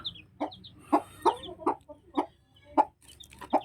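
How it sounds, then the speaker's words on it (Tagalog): White leghorn crossed with native chickens, chicks, cluck and peep in a quick series of close, distinct calls with short gaps between them. "White leghorn cross native."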